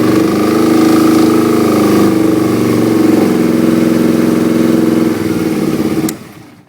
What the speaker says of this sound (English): We will start our bike. Rev it up a little bit for 5 seconds.